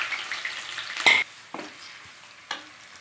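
Onions and curry leaves drop into hot oil with mustard seeds for a sundakkai gravy, giving a close, steady sizzle with a sharp burst near the start and a few stirring scrapes, no voices.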